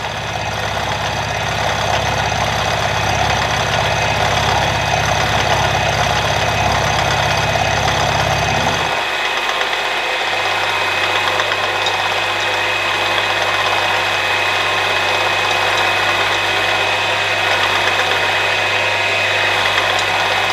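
Metal lathe cutting a small chamfer on the edge of a part for a quick change tool post, a steady machine hum and whine that shifts pitch partway through, with no talking.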